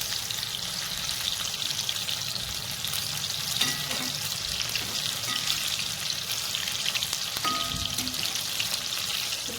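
Chicken frying KFC style in a kadhai of hot oil gives a dense, steady sizzle that fills the whole stretch, with a few faint clinks and scrapes now and then and no talking.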